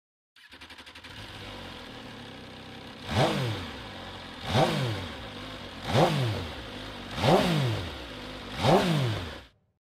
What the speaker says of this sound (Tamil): இந்த பைக்கோட எக்ஸாஸ்ட் சவுண்ட் வந்து நான் வெப்சைட்ல இருந்து ரெக்கார்ட் பண்ணியிருக்கேன்